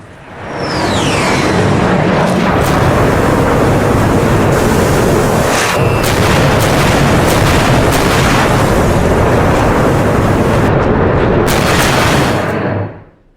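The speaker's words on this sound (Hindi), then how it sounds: "यहां पर अमेरिका ने बंकर बस्टर बम दागा है" A US bunker buster bomb blasts apart a tunnel, giving a loud, sustained broadband roar and rumble that swells at once and holds for about twelve seconds before cutting off, with sharp crackling bursts scattered through it.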